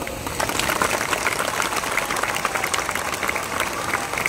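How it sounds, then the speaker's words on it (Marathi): An audience at the All Maharashtra sculptors' convention claps together for the scientists just credited, a dense, steady patter of many hands that is loud and close and holds for several seconds. "टाळ्या वाजवा"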